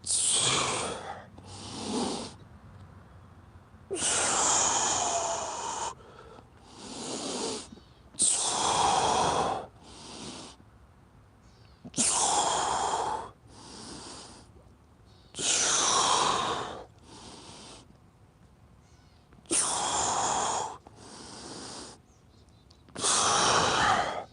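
Deep, audible breaths in and out during a core exercise session, a slow repeating rhythm of long forceful exhales and shorter inhales, close and clear with no talking.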